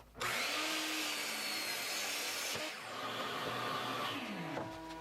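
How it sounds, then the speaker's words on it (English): A miter saw cuts black walnut boards: a loud, steady high whine that runs for about two and a half seconds, drops briefly, then resumes for a second long cut that winds down near the end. "The next thing to do was to break down the boards into more manageable sizes, and I did that over at the miter saw"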